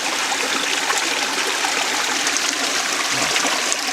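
A small trout stream rushes and burbles over stones, a steady, close broadband wash of moving water with no voices over it.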